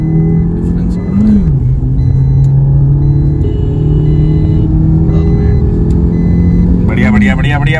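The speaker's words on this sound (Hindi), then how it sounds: "बढ़िया व्हील स्पिन अपनी बलिनो में" A Maruti Baleno and a Brezza accelerating side by side in a drag race, with wheel spin from the Baleno; steady loud engine rumble and rising revs run throughout, while someone talks excitedly over it.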